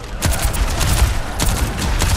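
Rapid gunfire from zombies in Overwatch 2's Junkenstein's Revenge mode, a dense run of shots with sharper bursts standing out, loud and continuous throughout.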